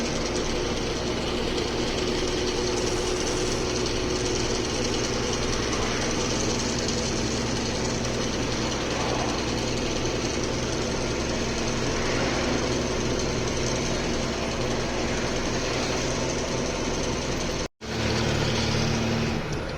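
A 14-wheel BS4 truck drives along a road. Its engine and road noise form a loud, continuous drone that breaks off for an instant near the end, then resumes.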